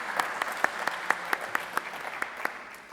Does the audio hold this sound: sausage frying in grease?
no